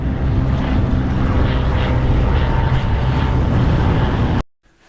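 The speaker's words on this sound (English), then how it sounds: "there goes the Coast Guard plane." A Coast Guard plane flies overhead in the Florida Keys, its steady propeller-engine drone loud and sustained before cutting off abruptly at the end.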